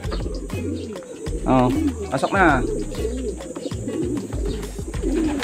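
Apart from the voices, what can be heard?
pigeons cooing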